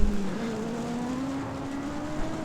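A race car on a circuit accelerates flat out through third gear, its engine note steadily rising in pitch and loud from the onboard position, with wind and road noise underneath.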